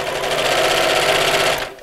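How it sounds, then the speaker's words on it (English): A domestic sewing machine runs steadily, stitching piping onto the edge of a Christmas bauble appliqué cushion, with a continuous close-up motor whir that stops near the end. "and we'll carry on sewing."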